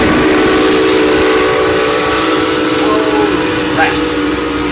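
A passenger excursion train rumbles past loud and close, a steady roar of wheels and machinery, with a brief whistle-like tone near the end.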